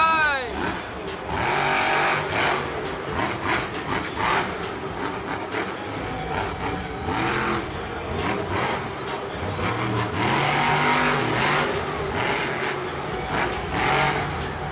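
The El Diablo monster truck roars around a stadium dirt track with surging, revving engine bursts, heard under continuous loud commentary and crowd noise.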